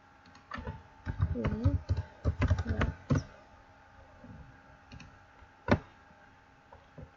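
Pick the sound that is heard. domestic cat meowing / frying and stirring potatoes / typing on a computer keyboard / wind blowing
typing on a computer keyboard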